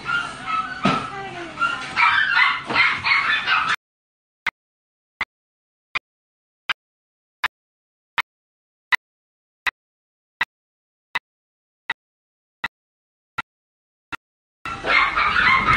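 An English bulldog puppy gives a long run of short, evenly spaced yips and barks, each one sharp and isolated in otherwise silent air, with whimpering and people talking before and after the run.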